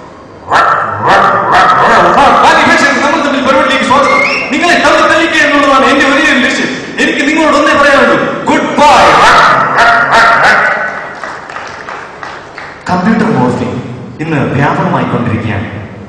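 A voice imitates a dog, making loud, close barks and whimpering yelps in repeated bursts with short pauses between them.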